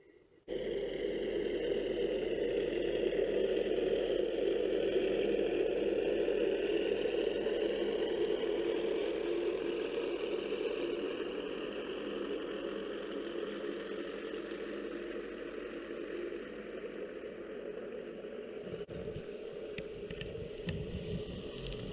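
A boat engine runs steadily under load, holding about 250 pounds of thrust against a set CQR anchor; a continuous mid-low drone throughout, easing slightly partway, with no voices.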